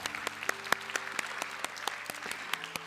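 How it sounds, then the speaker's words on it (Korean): A Sunday church congregation applauds in a modest, fairly quiet patter of scattered hand claps, with distinct individual claps standing out over a soft background of clapping. "지난 한 해 동안 우리와 함께 하신 하나님께 감사와 영광의 박수 올려드리겠습니다"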